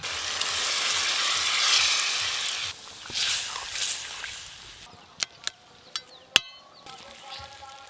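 Banana flower frying with spices in a pan gives a loud, steady sizzle that drops sharply when water is poured in, followed by quieter bubbling with a few sharp utensil clicks.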